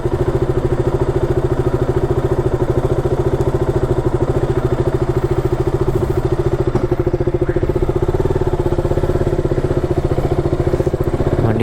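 A KTM Duke 200 motorcycle engine runs steadily nearby with a fast, even thumping pulse and a constant droning hum throughout.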